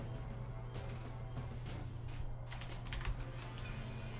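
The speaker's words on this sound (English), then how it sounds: "I was typing things out in Twitch" Rapid keystrokes clatter on a computer keyboard, a quiet steady run of clicks over a low electrical hum with no speech.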